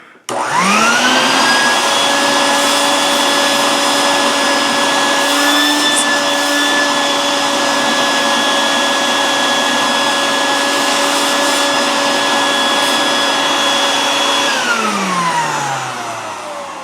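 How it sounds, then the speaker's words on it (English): A shop vac runs steadily while cleaning the dust cup filter of a handheld Dust Buster vacuum. Its motor whines up at the start, holds a loud, constant tonal drone, then spins down at the end. "So we're gonna shop vac it again."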